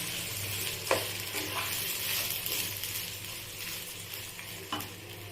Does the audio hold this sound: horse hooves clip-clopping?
no